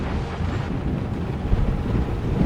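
Tornado-strength wind roaring in a video game storm with hail and thunderstorm conditions; a loud, low, continuous rumbling gust with no talk.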